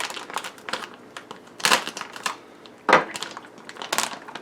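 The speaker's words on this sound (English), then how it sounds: "the next ingredient, very easy here, is the sauerkraut. So let's cut that open." A plastic bag of sauerkraut is cut open up close, with crinkling plastic and a few sharp snips and rustles arriving in irregular bursts.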